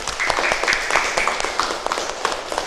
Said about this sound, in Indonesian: Kasih tepuk tangan meriah untuk kelompok 4